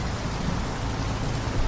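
Steady, dense rain driven by wind during a storm, a loud broadband wash with no pauses and no voices.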